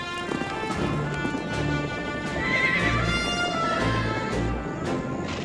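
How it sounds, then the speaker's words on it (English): Young horses that broke loose and joined another herd on an outback property neigh and whinny repeatedly over a steady rumble of hooves and wind, the calls loud and close. "One of our best young horses has escaped."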